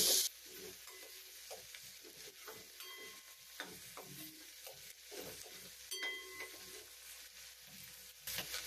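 Onions fry with whole garlic in a pan for a mung bean curry, stirred by a spoon that scrapes and clinks in soft, irregular strokes over a faint, continuous sizzle.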